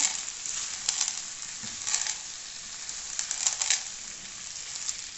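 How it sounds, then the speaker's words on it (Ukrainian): Dry pasta poured into a frying pan with tomato sauce and sour cream, then stirred, giving a steady close sizzle with bursts of rattling and scraping as the pieces are mixed. "Тепер всипаємо наші макарони, перемішуємо."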